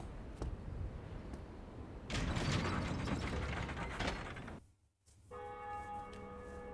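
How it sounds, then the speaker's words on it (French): In the Dark Souls video game, the Bell of Awakening is rung: a mechanical ratcheting of gears and pulleys comes first, then a resonant bell tone rings out and sustains, with no voices. "on va monter pour sonner notre première Bell of Awakening"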